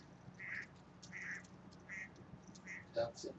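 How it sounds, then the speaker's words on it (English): Several ducks quack in short bursts, spaced about every half second to a second, fairly close over a constant low outdoor hum, with one louder call near the end. "Poor lonely little duck."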